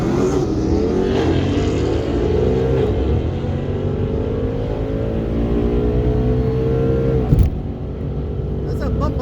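Red 2015 Ford Mustang revving hard at a drag strip launch while held on the e-brake. Its engine note climbs and falls loudly in steady sweeps, then gives a sharp bump near the end.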